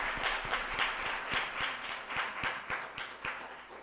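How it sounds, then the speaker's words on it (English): An audience applauds at the Cumbre Afro 2023 summit: fairly quiet, scattered clapping with distinct individual claps in a loose rhythm, steady for a few seconds with no voices. "So, give her a round of applause."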